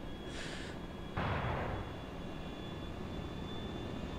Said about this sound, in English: There, yeah, I can hear the jet though as well.